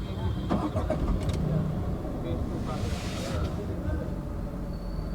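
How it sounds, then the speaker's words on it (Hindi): A 2023 Tata Tiago XT hatchback is started from inside the cabin. A short cranking burst catches into a steady idle hum that continues underneath. "एक बार गाड़ी को स्टार्ट करते हैं पहले"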